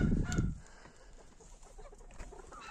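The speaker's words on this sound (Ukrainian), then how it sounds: "Зараз вийдуть кури" Hens clucking nearby, a loud burst at the start followed by softer scattered clucks and faint rustling.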